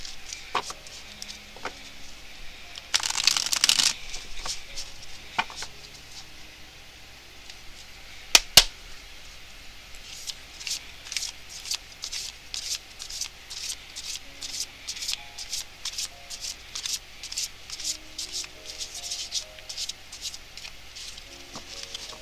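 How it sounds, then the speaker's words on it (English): Tarot cards being shuffled by hand, soft rubbing and riffling bursts with one brief louder flurry early on, followed by a long stretch of quick, light, rhythmic card patter. "I'm going to pull three of the Sexual Magic Tarot cards."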